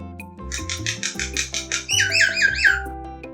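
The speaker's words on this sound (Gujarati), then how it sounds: "કાબર કલબલ કલબલ કરે," A myna bird chatters in a quick run of harsh, squawking calls and whistled notes, loud and close, over steady background music with no speech.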